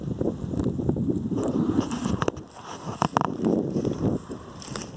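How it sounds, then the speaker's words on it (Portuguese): Strong afternoon wind blows outdoors at a sunny spot where ipê and aroeira seedlings are being planted, a steady rough buffeting that roars against the microphone throughout with no talk. "O barulho vocês escutam porque é o vento aqui, venta muito, certo?"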